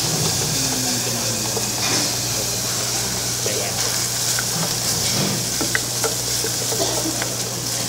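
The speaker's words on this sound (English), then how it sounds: "Now I'm adding wine to this one first. And you see it starts to boil at once, right?" Wine poured into a hot risotto pan boils and sizzles in a steady loud hiss with occasional stirring scrapes, a low hum underneath and intermittent talking.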